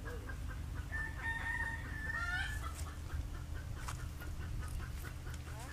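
Pheasants calling at a zoo, with harsh rising crow-like calls and a few clucks standing out over a steady low outdoor rumble and background hum.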